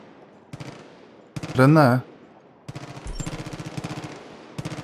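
Gunfire in the Far Cry 5 video game, rapid machine-gun bursts in quick repeated rattles, fairly loud, mixed with a voice and a shouted exclamation.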